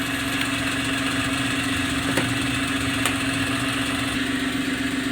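A Suzuki F6A engine idles steadily after ignition timing adjustment, a constant low hum with a couple of faint clicks, no talking.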